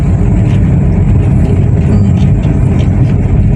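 Toyota Corolla with a 2E engine cruising uphill in third gear, a loud, steady low engine drone and road rumble from inside the cabin, continuous and even throughout.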